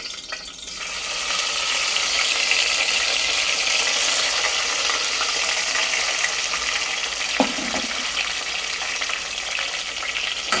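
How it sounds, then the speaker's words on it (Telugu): Chopped vegetables sizzle steadily in hot oil in a pan while cooking kichidi and pachi pulusu, a loud continuous hiss and crackle with one brief clatter of stirring midway. "ఇవి కొంచెం ఇలా వేగనివ్వాలి"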